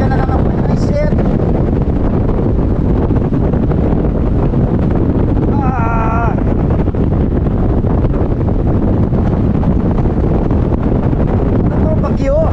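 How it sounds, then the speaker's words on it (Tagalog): Strong gusty wind buffets the microphone during a bicycle tour across Quirino Bridge in Ilocos Sur, a loud, continuous roar that swamps the scene, with brief voices and faint whistle-like tones breaking through. "Di namin ina-expect na ganito pala kalakas ang hangin sa pagtawid namin sa Quirino Bridge ng Ilocos Sur."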